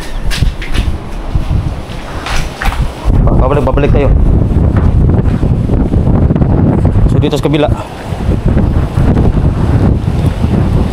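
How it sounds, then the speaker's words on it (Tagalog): Strong seaside wind gusts buffet the microphone at an abandoned restaurant, loud and roaring throughout with a brief lull near the start, while someone talks over it. "So mahangin talaga dito"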